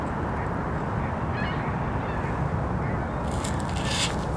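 Ducks honk along an outdoor nature trail, with a brief call near the middle and a cluster of louder honks toward the end over a steady, breezy outdoor rumble.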